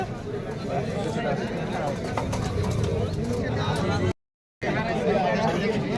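Giribaj pigeons coo at a busy pigeon market in Naohata, Rajshahi, their calls mixed into steady crowd chatter and bargaining voices, with a brief dropout near the end.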